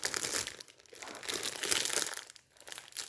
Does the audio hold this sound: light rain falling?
no